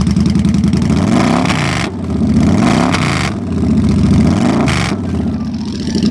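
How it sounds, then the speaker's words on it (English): Customized Victory Judge motorcycle with a Stage 1 performance kit, its engine revved hard several times in a row, each blip rising and falling with a loud, close, throaty roar and mechanical clatter. "It sounds like a full-blown fuel-injected NASCAR motorcycle."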